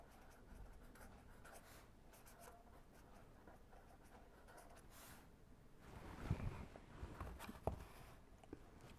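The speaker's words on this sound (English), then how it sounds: "let me write that down." Handwriting during a lecture on latent thermal energy storage: a pen scratching out notes, faint and steady, with a few louder strokes and taps near the end and no talking.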